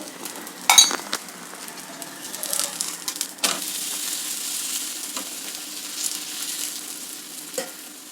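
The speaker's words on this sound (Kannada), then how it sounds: "ಸ್ವಲ್ಪ ಎಣ್ಣೆ ಹಾಕ್ತಾ ಇದ್ದೀನಿ ತಿರುವಾಕಕ್ಕೆ ಮೊದಲು" Ragi roti with vegetables frying in a little oil on a pan, a soft steady sizzle under occasional scraping and clinks of a spatula or utensil against the pan.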